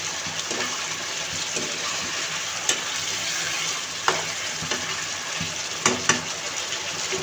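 Chicken braising in a pan with spices, a loud steady sizzle under repeated scraping stirs with a few sharp clacks of the spoon against the pan.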